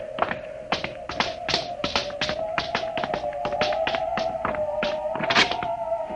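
A door is worked in a radio drama scene: a rapid series of sharp taps and knocks over a steady low hum, close and moderately loud, with no voices.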